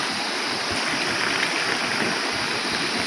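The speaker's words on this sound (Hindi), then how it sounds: "हाथ मुँह धो रही है।" Water runs steadily and continuously as someone washes hands and face, a close, even rushing splash with no pauses and no talk over it.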